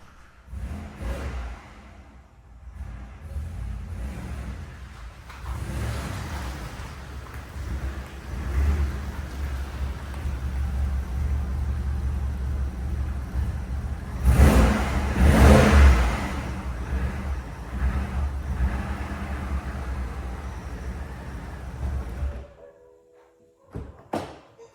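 A Ford Transit van, crash-damaged and being rebuilt, driven outside: a steady mid-pitched engine drone with revving surges and clanky thumps for about twenty seconds, fairly loud and close, then cutting off abruptly near the end.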